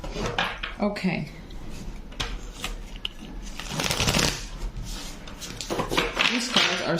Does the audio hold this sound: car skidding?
no